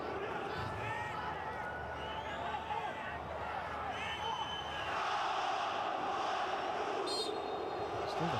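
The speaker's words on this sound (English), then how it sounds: "Still the crowd are urging them on." Football stadium crowd cheering during an AFC Champions League Two match between Persib Bandung and Ratchaburi FC, a steady distant roar and chanting that swells slightly near the end, under continuous commentary.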